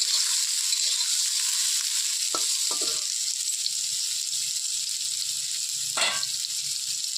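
Egg is stirred and fried in a pan with a steady, close hiss of hot oil, broken by a few quick scrapes and taps of a spatula.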